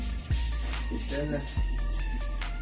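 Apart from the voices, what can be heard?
sanding clear coat on a motorcycle tank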